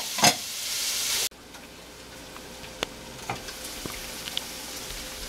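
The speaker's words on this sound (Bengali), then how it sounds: "গ্রাউন্ড মিটটাকে লো হিটে আমি 10 মিনিট রান্না করেছি" Ground meat cooks in a pan over low heat for couscous, a loud steady sizzle that cuts abruptly to a softer crackle with scattered pops and light utensil taps, close and without talk.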